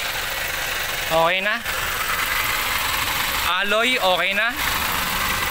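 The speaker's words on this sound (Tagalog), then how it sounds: "maingay yung makina kasi" A 2019 Toyota Grandia GL engine idles in its engine bay during an engine wash, a steady noisy hum running throughout while someone speaks briefly twice over it.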